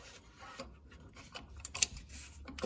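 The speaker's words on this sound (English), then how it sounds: "I've got my ratchet on that back nut, and then I'm using a bottle jack handle just to get a little bit extra leverage" A ratchet, helped by a bottle jack handle for leverage, works at a nut on Land Rover LR3/LR4 front air suspension, giving a continuous close rasping grind that swells toward the end.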